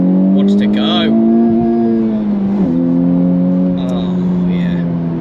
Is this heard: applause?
no